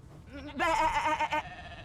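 A sheep in the video game Divinity: Original Sin II gives a single wavering, nasal bleat that rises in loudness and then trails off, heard up close with no one speaking.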